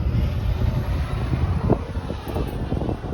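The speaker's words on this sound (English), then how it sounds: "And it is a bit windy. It's a little breezy." Steady wind buffets the microphone at a Love's truck stop beside an electric car charger, a constant rough low rumble with occasional gusts.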